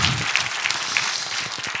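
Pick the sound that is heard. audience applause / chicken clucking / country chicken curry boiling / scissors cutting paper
audience applause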